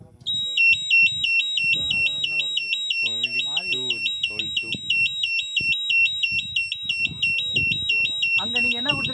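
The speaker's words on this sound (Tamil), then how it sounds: "LV2 alarm" An LV2 alarm, like a fire or smoke alarm, sounds as a loud steady pulsing electronic beep that repeats rapidly for the whole stretch, with people talking continuously beneath it.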